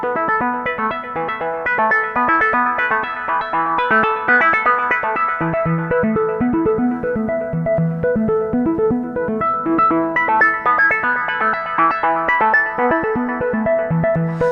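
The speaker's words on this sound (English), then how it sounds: "let me bring all these modulations in on the Brenso at once so we can hear what the sound is doing." A modular synthesizer, the Brenso, plays a busy pulsing sequence of tones under shifting modulation. The timbre changes continually for the whole stretch, loud and alone with no voices.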